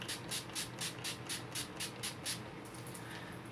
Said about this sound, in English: We are going to set it first and then apply some lipstick. In the NYX matte finishing spray.